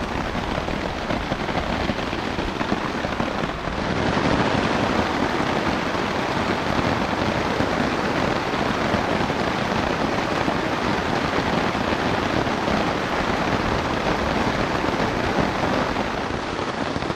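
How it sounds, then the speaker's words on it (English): Steady heavy rain pours down at night on a hiking trip in a dense, unbroken hiss, loud and close throughout with no voices. "Heavy rain."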